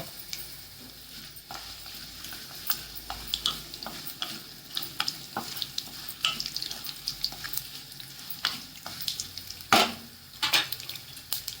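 Curry leaves hit hot oil with browned garlic in a pan, crackling and sizzling steadily near and loud, with intermittent sharp pops and spatters plus occasional scraping as they are stirred.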